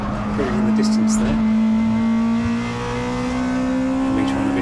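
A Honda Integra DC2 race car in a CSCC Tin Tops race on a hot day, its engine holding a loud, steady high drone at close range with brief tyre squeal over a continuous racing roar.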